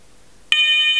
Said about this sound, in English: you press the test button. That will run through fire level 1